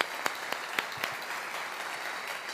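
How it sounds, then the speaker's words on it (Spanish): An audience at a conference in Colombia applauds a speaker: a few sharp, separate claps at the start give way to soft, fairly distant, steady clapping from a crowd. "Un fuerte aplauso para Kenny,"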